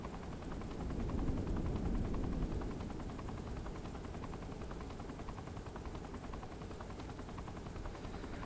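A helicopter in Saints Row 4 flies on with a loud, continuous rotor chop and whine, swelling briefly early on and then holding steady while it takes damage, with no speech.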